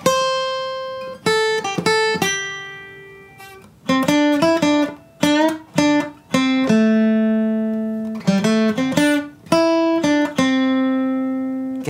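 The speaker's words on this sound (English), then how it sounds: "You can't play blues without vibrato or it'll sound like this." Blues guitar licks played deliberately without vibrato: a dozen seconds of clean, loud single notes and short double stops, each held flat and dry, in halting phrases separated by brief pauses, with no talking.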